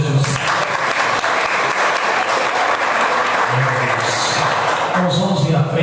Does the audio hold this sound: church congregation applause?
yes